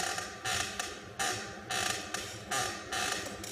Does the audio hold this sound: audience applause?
no